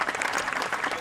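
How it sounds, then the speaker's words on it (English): Golf gallery applause rises around the 18th green at the Evian Championship in France, a brief burst of dense, continuous clapping from a distant crowd. "to try to soak up the applause from around the 18th"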